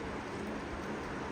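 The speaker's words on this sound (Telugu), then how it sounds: "బయట బాగా వర్షం పడుతోందండి" Heavy rain pours down outside a kitchen, a dense and even hiss of falling water that stays steady and fairly loud for the whole moment, with no voices over it.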